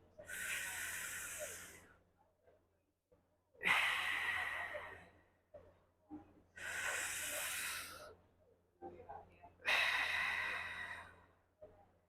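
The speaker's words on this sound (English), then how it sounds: "as I breathe in, I want to push out into my fingers" Deep slow breaths drawn in and let out with the belly pushed outward, four long airy inhales and exhales in an even rhythm, close to the mic with quiet gaps between.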